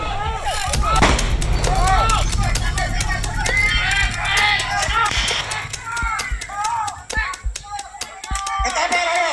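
Sharp gunshots and tear gas launcher reports crack repeatedly through a chaotic street clash, with shuffling feet, crowd noise and shouting voices throughout, the bursts irregular and close.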